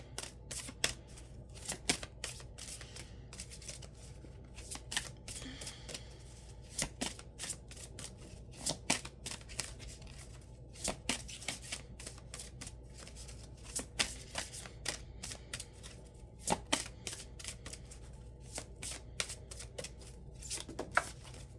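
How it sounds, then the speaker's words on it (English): Tarot cards are shuffled by hand during a pick-a-card reading, giving quiet repeated riffling bursts and crisp card snaps scattered through a long stretch without speech. "Okay, let's pull some more cards."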